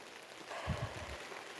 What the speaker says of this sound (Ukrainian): поки йде дощик, навела тут лад